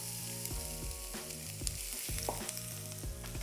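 Onions fry in olive oil in a pan with a steady close sizzle and soft stirring scrapes, heard under background music with no talk. The onions are cooking for a frittata with bacon.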